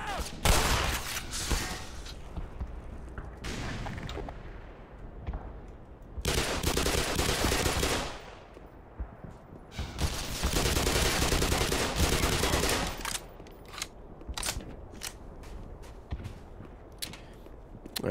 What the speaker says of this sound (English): I just need to shoot it a bunch.